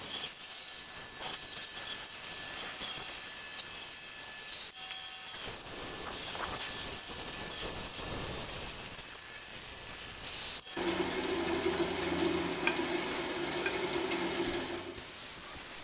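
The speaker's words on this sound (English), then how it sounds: "bringing it to the bandsaw and cutting out the rough taper" A bandsaw rips the rough taper into a wooden guitar neck blank, a steady continuous cutting hiss and whine that holds loud throughout, with the tone shifting partway as the blade works through the wood and no talking.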